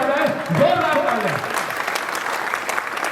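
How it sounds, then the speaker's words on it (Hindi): Loud, sustained applause from a studio audience at a 1000-episode cake-cutting celebration for a Hindi TV serial, dense clapping that continues throughout with a voice speaking over the start. "जोरदार तालियां"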